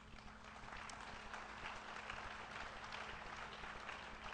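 Faint, steady applause from a conference audience welcoming the event's host, a continuous wash of distant clapping with a low hum underneath.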